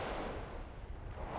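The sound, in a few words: volcanic explosion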